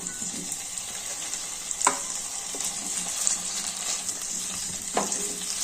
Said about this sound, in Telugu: కొద్దిగా నెయ్యిలో వేయించుకోవాలి.